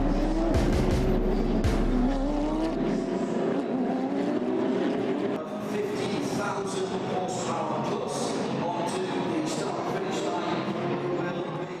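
GT race cars, including a V8 Racing Corvette, a Black Falcon Mercedes and a Porsche 997 GT3R, on the starting grid at the 2014 Dubai 24 hour race. Engines drone loudly and steadily throughout, with some talk mixed in.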